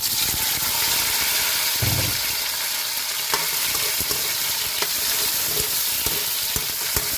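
Chopped onion and tomato sizzle loudly in hot oil as they are sautéed for a Filipino mung bean stew with moringa and squash, with steady frying hiss close up and occasional clicks of stirring, no talking.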